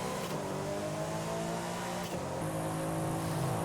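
Mercedes-Benz E63s engine in Forza Horizon 5 with a stock transmission, holding a loud, steady, close-up drone with a strong harmonic tone, a brief dip near the middle, then rising slightly in pitch toward the end.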